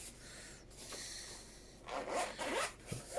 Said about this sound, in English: Has a nice zipper on it.